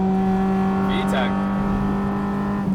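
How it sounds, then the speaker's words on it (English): A JDM Honda Del Sol Si-R engine drones at high revs from inside the car, a steady buzzing tone with a brief rising chirp partway through, loud and continuous. "Wow, you really hear it pop right around 6 grand."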